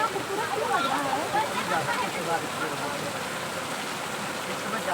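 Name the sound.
rain falling during the monsoon season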